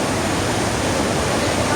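Water flows into a cave tunnel as a loud, steady rushing roar filling the whole moment without a break.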